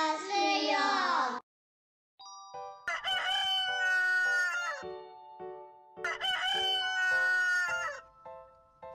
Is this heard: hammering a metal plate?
no